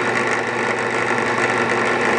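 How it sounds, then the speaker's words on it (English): A power drill bores straight through a hardback book, giving a continuous close, loud motor whir with a buzzing grind that holds steady the whole time. "we're going to go ahead and drill straight into this book"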